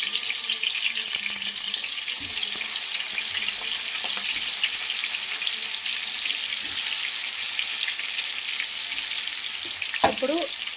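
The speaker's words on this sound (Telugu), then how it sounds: "ఇప్పుడు ఇందులోకి వంకాయలు వేసుకుందాము." Stuffed eggplants sizzle and fry steadily in well-heated oil for a Telugu-style brinjal curry, a loud continuous crackle with a few clinks of a utensil near the end.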